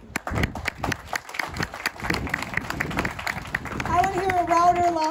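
A crowd claps at a museum reopening celebration held by a historical association, brisk and fairly loud applause running throughout, with a voice starting to speak over it near the end.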